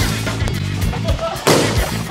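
A balloon bursts with one sharp, loud pop during a team party game, amid continuous chatter and shouting from the players.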